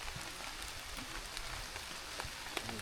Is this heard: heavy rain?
yes